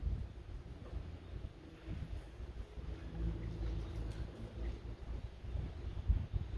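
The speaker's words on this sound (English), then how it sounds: "Ooh, little wind." Wind blowing outdoors, low rumbling gusts buffeting the microphone that rise and fall unevenly and swell toward the end, with no talking.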